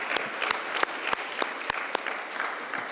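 Audience applause at a Kabarak University research conference on media and communication, a steady wash of clapping punctuated by a few sharp, close individual claps.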